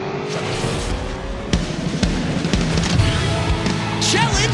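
Race cars speed along a track in the Hot Wheels Unlimited video game, with whining engine tones rising in pitch over a dense bed of game effects, punctuated by sharp impacts and pops.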